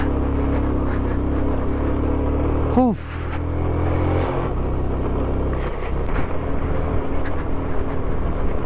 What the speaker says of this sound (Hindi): इंजन पे बहुत लोड आएगा, बहुत लोड।